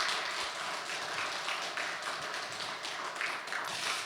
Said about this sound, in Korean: 이 부분에서 저희가 수고하신 두 분께 우리 큰 박수 한번 부탁드리겠습니다.